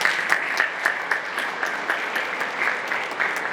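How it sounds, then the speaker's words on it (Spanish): Audience applause for a doctor at an education convention, steady sustained clapping from a large crowd throughout, moderately loud with no speech over it. "Fuerte el aplauso para la doctora."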